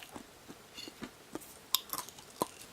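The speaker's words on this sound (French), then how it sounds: "je vais en goûter une devant vous et vous allez voir que c'est hyper croquant" Someone bites into and chews a crunchy microwave-toasted almond: a quiet series of small crisp crunches and clicks in an irregular rhythm, close to the microphone, with no voices.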